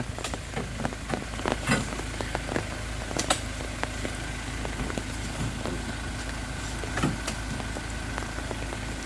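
Rain falls steadily while palm fruit is loaded onto Ford Ranger and Toyota Revo pickup trucks, a constant hiss with an idling engine underneath and scattered sharp knocks and clatters.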